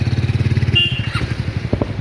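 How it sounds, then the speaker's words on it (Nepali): A motorcycle engine on the steep mountain road to Dhap Dam via Sundarijal thrums nearby in a steady pulsing rhythm for two seconds, a brief higher whine cutting in midway, with no talk. "हामी चाहिँ तलतिरबाट नि बाइक आइरहेछ बाइक आइरहेछौ"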